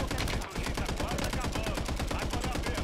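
Rapid bursts of Warzone 3 gunfire, dense and continuous, with a brief lull near the start before the shooting resumes.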